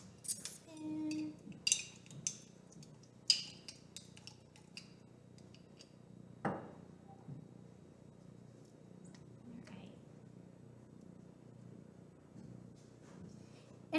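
A metal spoon clinks against a dish while lemon curd is spooned in, giving several quick, light chinks early on and a sharper tap midway, then quiet room tone.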